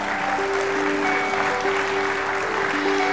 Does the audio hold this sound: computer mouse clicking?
no